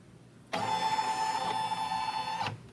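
An embroidery machine advancing its hoop while making a zipper pouch: a steady motorized whir with a whiny tonal hum that starts abruptly, runs about two seconds, then stops, close and clear with no speech.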